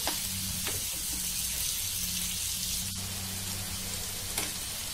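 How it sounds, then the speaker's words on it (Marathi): Paneer tikka fries over medium heat in a pan and is turned now and then, producing a steady crackling sizzle with a few soft clinks and scrapes from the turning. "मीडियम आचीवरती आपल्याला हे चांगलं व्यवस्थित आधूमधून परतत राहायचंय आहे पलटी मारायची"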